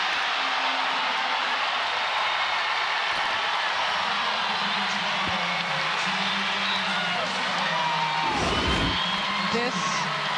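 Arena crowd at a TCU vs. Louisville NCAA women's basketball second-round game, cheering steadily and loudly, with a brief louder swell near the end, under commentator talk.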